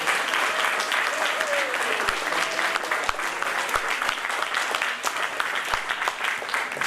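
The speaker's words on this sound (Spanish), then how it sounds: "Un aplauso fuerte para Carmen por tan hermosa obra." Warm audience applause for Peruvian poet Carmen Abad at a tribute reading, sustained even clapping from a room full of people, with a faint voice briefly beneath it.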